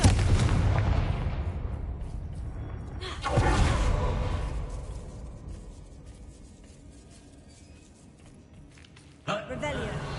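A Confringo fire spell in the Hogwarts Legacy video game, a sharp blast at the start that fades into a rumbling tail, then another whooshing burst and a later thump, all fairly faint.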